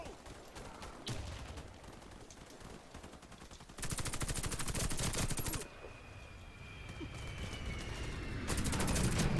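Gunfire in the shooter Warface during a PvP match, with bursts of rapid automatic fire that come in separated volleys, the loudest stretch in the middle and another toward the end, with no talking.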